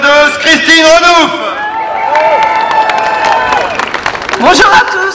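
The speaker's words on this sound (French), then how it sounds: "Merci à Marc Doyer qu'on peut applaudir bien fort" A protest rally crowd in France cheers, whistles and claps loudly for a speaker, bursts of shouting and applause rising and falling around a voice on a loudspeaker.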